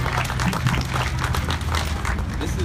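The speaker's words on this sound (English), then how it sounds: "How about a huge round of applause for the kids that did such a great job?" A crowd applauds the kids at the opening of a new elementary school playground, a steady wash of many hands clapping at once with a low hum and some chatter underneath.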